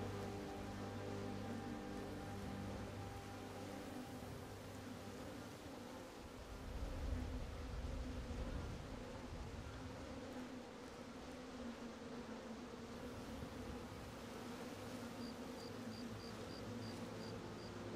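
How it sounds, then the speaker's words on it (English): Bees swarming around beehives in a fantasy role-playing video game, a soft, steady buzzing drone that hums on without pause, faint and even, with no talk over it. "Don't sting me, bees."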